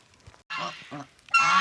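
Geese honk loudly and close by in a few short, harsh bursts separated by brief pauses.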